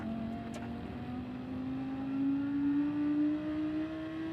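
Race car engine in Gran Turismo 7 at Monza, a steady high drone that climbs in pitch as it revs up over several seconds, a constant mid-level tone with no talking.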